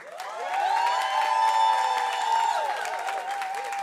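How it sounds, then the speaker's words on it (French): A church congregation cheers and applauds the newly baptized in a sustained wash of crowd noise, with bright, lingering voices whooping and singing out over the clapping at a steady, loud level. "On peut aussi applaudir les baptisés de ce matin"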